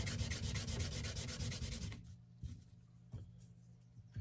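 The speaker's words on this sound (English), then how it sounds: "I'm going to go ahead and sand the little round decorative piece that goes right down there" Rapid rhythmic sanding strokes rub across a small round decorative model part for about two seconds, then give way to a few scattered quiet scrapes, close up with no talk.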